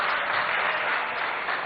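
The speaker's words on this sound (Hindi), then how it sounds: "तालियों के माध्यम से बताएं आप।" An audience at a public forum on local development issues claps together, a dense, even burst of applause heard close and continuous, with no voices over it.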